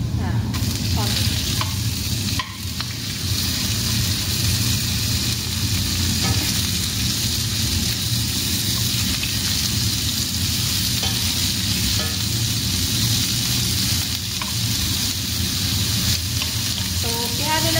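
Onion and garlic stir-fried in a pan for luncheon meat with bitter melon, a loud continuous sizzle with scraping stir strokes throughout, no talking.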